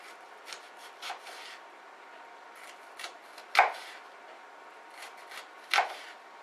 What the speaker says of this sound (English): Alright, so I'm going to cut our onions